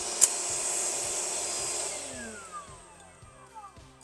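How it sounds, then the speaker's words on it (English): Vacuum cleaner running steadily close by over layered model railroad scenery, a loud whining hum with a sharp click at the start, then winding down and fading as the motor slows. "We're going to have to vacuum this."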